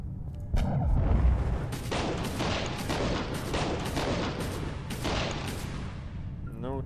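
Gunfire in the action RPG The Incredible Adventures of Van Helsing: a dense, booming barrage of repeated shots at a steady rapid pace, loud and continuous over a heavy low rumble.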